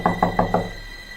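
Four sharp knocks on a wooden door at night, evenly spaced and close, fading into a quiet hum, as a spooky horror-story effect.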